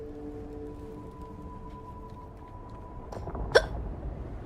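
A single sharp hiccup sounds near the end, loud against a quiet background with faint low tones beforehand.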